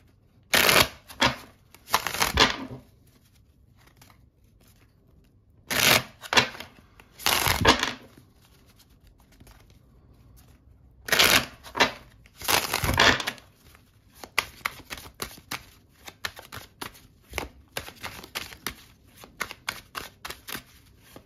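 Tarot cards are shuffled in repeated bursts of crisp riffling and flicking, up close and fairly loud, with quiet pauses between the bursts and brisker tapping of cards near the end.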